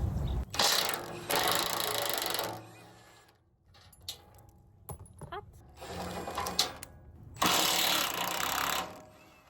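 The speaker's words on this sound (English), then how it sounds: "The wrench doesn't work good." A ratchet wrench works on bolts during removal of a chrome-plated stainless exhaust. It makes loud, close bursts of harsh ratcheting separated by quieter gaps with small knocks and clatter.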